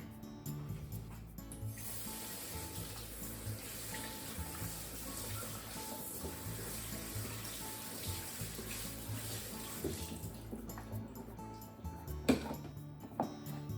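Okra is rinsed under a running kitchen tap, a steady soft rush of water close by that continues for most of the clip, followed by a few knocks and clatters near the end.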